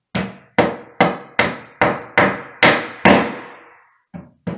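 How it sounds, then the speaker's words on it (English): Hammer tapping wall anchors into a wall to mount a toilet paper holder: eight sharp, evenly spaced strikes followed by two lighter taps, close and clear with no talking. "So using a hammer, I can just slightly"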